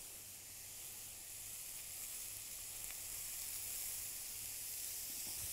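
Cooking oil poured into a hot pan for a mushroom polenta dish sizzles and hisses steadily and evenly at a moderate level, with no talking.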